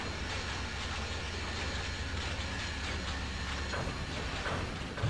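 A mixed freight train in a video game rolls along the rails with a loud, steady rumble and faint rhythmic clatter, no voices.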